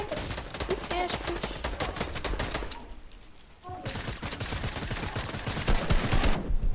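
Rapid bursts of video game gunfire crackle through most of the stretch, break off into a short near-silent gap in the middle, then start up again just as dense and loud until the end.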